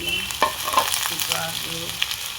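Chopped onions frying in a pan for mini momo filling, a steady close sizzle with a few stirring clinks and scrapes, no voices.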